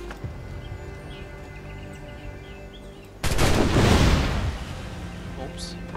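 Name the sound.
explosion in video game Assassin's Creed 4 Black Flag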